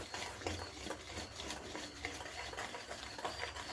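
Sugar and oil are stirred together in a bowl for brownie batter, a soft continuous scraping and swishing close by, steady throughout with no voices.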